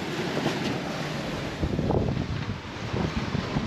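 Wind buffets the microphone aboard a sailboat at sea, a loud steady roar with low gusty rumbles and a wash of water around the hull, with no talking.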